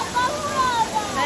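River water rushes steadily near Nanny Falls in Portland, a continuous close wash of flowing water with faint voices mixed in.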